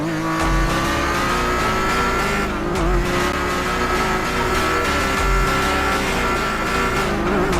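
A car engine in a GTA roleplay video game revs loud and close in a sustained, droning whine that holds its pitch with slight surges throughout.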